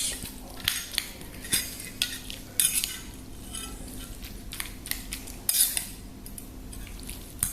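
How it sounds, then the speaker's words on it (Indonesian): Chicken noodles are stirred in a bowl with utensils, giving repeated metallic clinks and scrapes against the bowl at an irregular pace, close and clear with no voices. "Kita aduk lagi guys."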